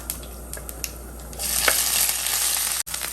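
Chopped fish-curry ingredients drop into hot oil and a steady sizzle swells and crackles loudly, close by, with a few light scrapes before it.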